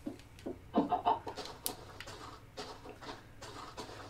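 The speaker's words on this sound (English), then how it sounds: "Hey, chicken." Chicken clucks from Minecraft on Xbox 360 in survival mode, a few quick, fairly faint clucks near the start, followed by quieter game noises and soft shuffling.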